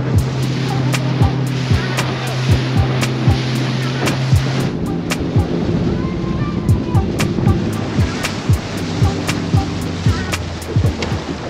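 A motorboat carries riders across the water near Puerto Chale in Baja California, its steady engine drone running the whole time under rushing wind and splashing, with repeated thumps as the hull slaps the waves.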